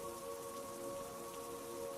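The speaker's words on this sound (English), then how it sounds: "I listened to the rain hit the nylon overhead" Soft, steady rain patters on tent nylon overhead at night, a constant hiss with a faint hum beneath it and no voices.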